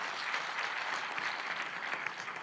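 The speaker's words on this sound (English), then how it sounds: "So big round of applause." Sustained applause from an audience at a technology and social-impact talk, steady dense clapping filling the whole stretch with no voices over it.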